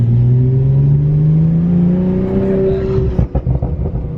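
A tuned Nissan Skyline engine drones and rises steadily in sport mode, then lets off into a burst of crackling, burbling exhaust pulses close by.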